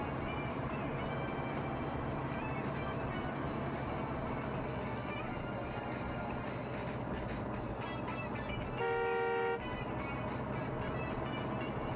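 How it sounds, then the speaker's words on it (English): Traffic noise in a Yakuza 5 street scene: a steady dense city drone with engines rumbling, and a short sustained car horn blast near the end standing out over the din. "What the fuck you honking at?"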